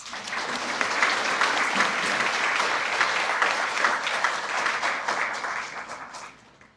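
Applause for college deans at a paramedic graduation ceremony, a broad, steady roar of many hands clapping that builds slightly, holds for several seconds and then fades out near the end.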